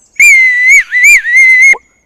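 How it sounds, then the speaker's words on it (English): A handmade whistle cut from a single piece of willow, blown in three clear, piercing tones that glide slightly up and down, close and loud, with no talking. "It's a willow whistle, made from a single piece of willow."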